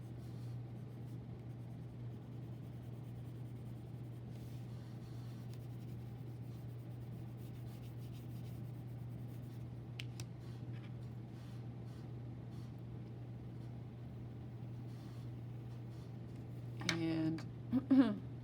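A drawing tool scratching lightly across paper while a sun is sketched for a children's art lesson, a faint close intermittent scribble over a steady low hum, with a brief louder bump near the end.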